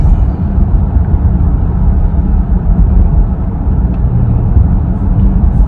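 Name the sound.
Dodge Durango RT engine accelerating in third gear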